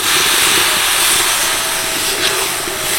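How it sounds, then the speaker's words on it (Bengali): Water poured into a hot pan of drumstick flowers, potatoes and dal sets off a loud, continuous steaming hiss that holds steady, close and without talk. "এবার দিয়ে দেবো জল।"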